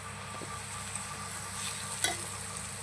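Garlic and ginger paste frying in a pan while being stirred, a soft continuous sizzle with a couple of light scrapes from the spoon, close by and fairly quiet, no voices.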